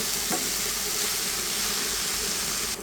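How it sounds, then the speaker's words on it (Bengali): Kalmi shak (water spinach) greens being turned with spices in a hot oiled pan, a steady close sizzle and hiss running throughout with faint stirring scrapes, no voices. "প্রথমে মশলার সাথে নেড়ে ছেড়ে ভালো করে মিশিয়ে দিচ্ছি"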